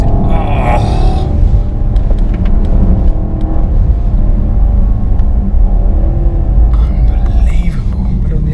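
A 2017 BMW Alpina B7 with a 4.4 V8 accelerating hard with fast gear shifts, heard from inside as a deep continuous engine rumble under people talking.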